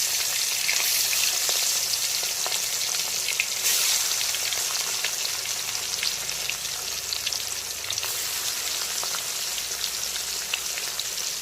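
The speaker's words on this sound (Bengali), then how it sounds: "মাছগুলোকে তেলের মধ্যে দিয়ে দিচ্ছি।" Katla fish pieces rubbed with salt and turmeric sizzle in hot oil, a loud, steady, close frying hiss running without a break, with faint crackles and spatters.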